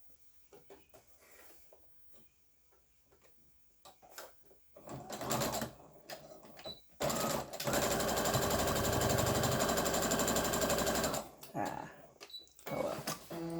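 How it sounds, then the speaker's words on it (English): A sewing machine stitches down a seam allowance on fabric, starting with a few slow, uneven stitches and then running in a steady, continuous whir for several seconds before stopping. Slower stitching follows, close and clear with no talk. "I just sewed down the seam allowance."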